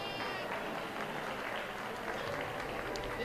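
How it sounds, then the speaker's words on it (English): Applause from spectators at a junior regional livestock show during a market goat class, a dense, continuous patter of clapping heard somewhat distant in a large arena, with faint background noise. "Please give these a round of applause."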